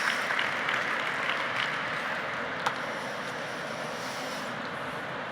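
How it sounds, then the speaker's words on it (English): A conference audience applauds its panelists at the close of a session: a dense, steady patter of clapping, even and sustained throughout, with no voices rising above it. "everybody, if we could give our brilliant panelists a round of applause"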